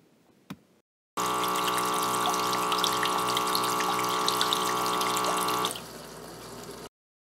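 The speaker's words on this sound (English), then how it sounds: "Water is spilling all over, so I am covering it with my hand." Water pump of a LetPot MAX hydroponics system running loudly with a steady hum and splashing water, starting abruptly after a single tap and fading softer before cutting off.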